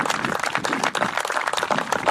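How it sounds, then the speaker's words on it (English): Steady applause from an audience at a Sayville High School event, a dense wash of clapping that stays fairly loud throughout with no talk over it. "That is absolutely worthy of applause."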